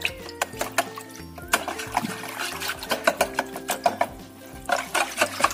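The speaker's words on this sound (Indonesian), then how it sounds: "Kita aduk lagi sampai tercampur rata." Pearl sago mixture for kue sagu mutiara is stirred in a pot, producing a run of rhythmic scraping and clinking strokes with a low hum behind, close and moderately loud.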